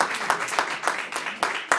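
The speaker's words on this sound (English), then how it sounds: "Great applause." Rhythmic clapping from a small group, brisk and close, with a few sharper claps standing out and faint voices underneath.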